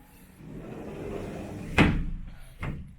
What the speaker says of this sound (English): shut that door because it's fairly warm here today